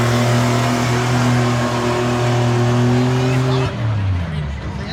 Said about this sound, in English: He's going to let her rip down the chute.